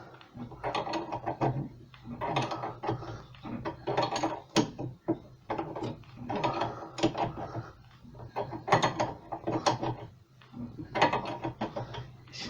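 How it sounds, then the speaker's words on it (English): A puller being tightened to press a bearing into the rear trailing arm hub of a 2001 Alfa Romeo 156, giving repeated ratcheting, clicking mechanical bursts in a steady rhythm, close and fairly quiet, with no talk. "So we'll use this bush or this spacer to push the bearing into the hub."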